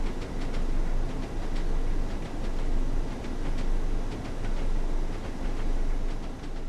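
A train runs in the Train Sim World 2 video game, a steady, loud rolling rumble with faint, regular rail clicks repeating throughout and no pauses.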